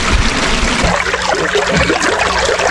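A strong current of water rushes into a fishpond, a loud, continuous turbulent gush that is close by and drowns out the surroundings.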